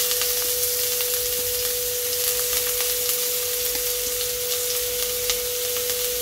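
Chopped ginger sizzles steadily in hot oil for a dhaba-style dal tadka, with a continuous close frying hiss, faint crackles and a steady hum running underneath.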